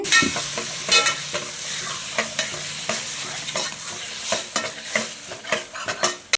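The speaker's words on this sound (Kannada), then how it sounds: "ಇನ್ನೊಂದು ಕುಕ್ಕರ್ ಇಟ್ಬಿಟ್ಟು ಅದಕ್ಕೂ ಸ್ವಲ್ಪ ಎಣ್ಣೆ ಹಾಕ್ಬಿಟ್ಟು ಚಿಕನ್ನ ತೊಳೆದಿರೋದನ್ನ ಅದನ್ನು ಹಾಕ್ಬಿಟ್ಟು" Washed chicken frying in a little oil in a pressure cooker gives a steady close sizzle, broken by repeated clanks and scrapes of stirring.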